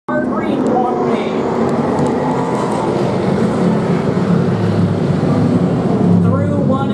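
Stock cars roar together on a short oval track at a green-flag restart, a dense, loud, continuous engine rumble swelling as the pack accelerates, with announcer chatter mixed underneath.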